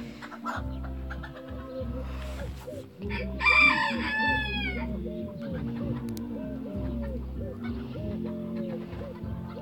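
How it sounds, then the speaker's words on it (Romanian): Chickens cluck in a busy, overlapping chorus while a rooster crows loudly once midway, close by, with a low rhythmic pulse of music running underneath throughout. "S-aude și niște găini."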